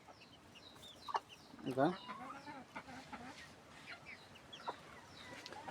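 Chicks on a farm peep and cluck faintly in the shade, with scattered soft chirps and a brief louder cluck, while someone speaks quietly nearby.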